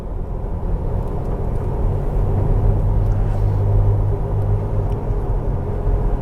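A Jeep Wrangler TJ on 4.88 gears and 32-inch tires idles down while driving through a 25 mph zone, a steady, loud low engine rumble from inside the cabin with no talking.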